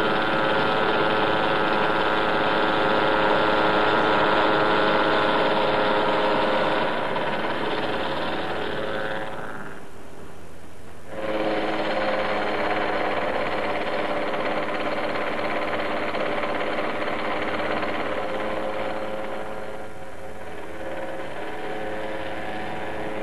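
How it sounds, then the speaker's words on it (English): A machine mills toughened steel tool holders, giving a steady whirring drone with layered tones that briefly drops away near the middle before resuming at an even level. "Holders made from toughened steel, which first undergoes a series of milling operations."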